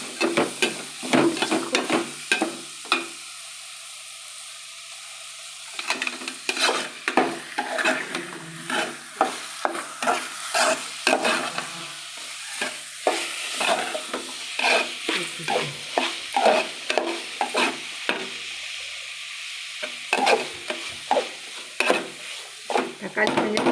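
Onions and tomatoes sauté in a pan while a spoon scrapes and stirs in frequent bursts over a steady, soft sizzle, with brief pauses between stirs.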